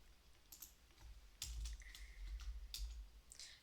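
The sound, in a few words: typing on a computer keyboard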